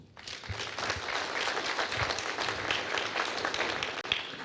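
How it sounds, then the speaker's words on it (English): A studio audience applauds to welcome guests on a Ghanaian television talk show, steady dense clapping that starts suddenly and holds at a fairly even level throughout. "let's take a moment to welcome them with a round of applause"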